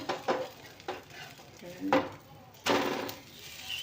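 Ragi dosa on a hot pan giving short bursts of sizzle and scraping as it is flipped with a spatula, several separate strokes then a louder sustained sizzle, fairly quiet and close.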